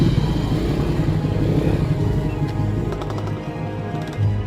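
A motorcycle rides along a muddy road near Bandaralam Lama in Kisam Tinggi, its engine a steady close rumble that eases slightly toward the end, with no talking.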